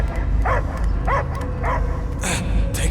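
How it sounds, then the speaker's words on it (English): A dog barks in short repeated yips, four or five evenly spaced and fairly close, over a low rumbling game soundscape in the Guardians of the Galaxy video game, without speech. "I hear only barking."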